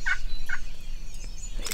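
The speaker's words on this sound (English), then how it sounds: "He's gobbling his brains out right now." Wild turkey gobbler in Texas gobbling, two close, loud, rapid gobbles early on, then quieter open-air background.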